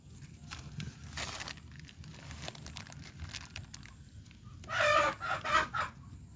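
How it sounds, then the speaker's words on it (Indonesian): A rooster crows loudly near the end, after a stretch of soft clucking and scattered rustling from nearby chickens, during durian seedling grafting. "Ada suara ayam kawan-kawan"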